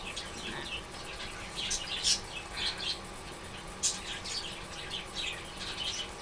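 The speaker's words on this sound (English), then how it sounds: "Birds!" Small birds chirp in scattered, irregular bursts of high tweets over a steady background hum, moderately faint and somewhat distant, with no one speaking.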